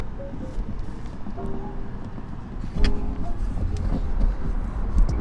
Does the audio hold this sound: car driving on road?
yes